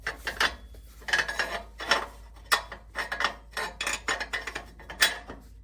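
Metal scraping and clinking as an exhaust flange is slid up over its stud on a Jaguar F-Type during catalytic converter replacement, a close, irregular series of short rasping knocks with no talk.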